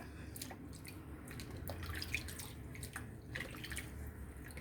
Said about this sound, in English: All right, we're gonna rinse that off.